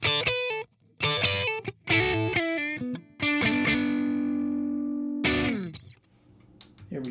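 A guitar played through a Synergy SYN-20IR amp with a Fortin Killer Kali preamp module produces distorted chords with chorus-like shimmer, struck in short bursts, then one long ringing chord that sustains before a final strum and fade.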